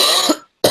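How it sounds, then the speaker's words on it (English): A single sharp cough, then a short silence and the start of a second cough, close to the microphone during a casual podcast-style hobby chat about RC toys. "Don't cough out your lungs."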